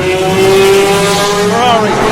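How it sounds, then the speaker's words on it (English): A Ferrari GT-category race car roars by at speed with a high, rising and falling engine whine that stays loud and close throughout, while a voice talks over it. "Here comes the Ferrari, so GT category."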